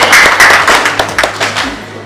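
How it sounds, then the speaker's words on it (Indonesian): Audience applause at a Smart Government outreach event in Bone Bolango. Close, loud clapping comes in a scattered burst of overlapping claps that thins out over two seconds. "Kita berikan tepuk tangan terlebih dahulu untuk semua yang sudah hadir pada pagi hari ini."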